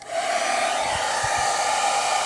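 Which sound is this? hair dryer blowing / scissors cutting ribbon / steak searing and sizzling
hair dryer blowing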